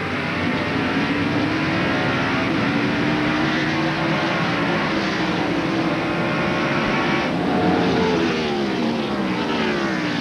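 Engine roar from NASCAR Winston Cup stock cars racing at the Sears Point road course in 1995, a dense continuous drone with rising and falling pitch as cars pass and accelerate off a turn, loud throughout with no voices.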